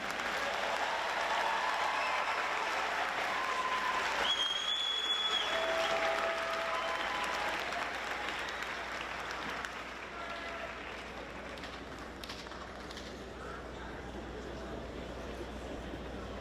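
Commencement audience applauding graduates, a broad sustained clapping from a large crowd that eases slightly in the second half, with faint voices and a brief tonal sound early on.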